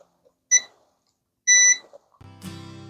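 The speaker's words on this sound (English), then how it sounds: "Set the timer for 10 minutes." A kitchen timer gives two short, clear electronic beeps about a second apart near the stove, followed by a low buzzing tone starting up.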